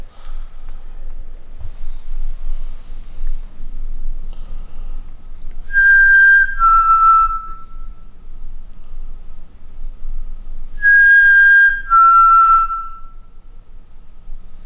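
A person whistles inside a medieval church: two short two-note whistles, each a high tone stepping down to a lower one, separated by a few seconds of quiet low background rumble.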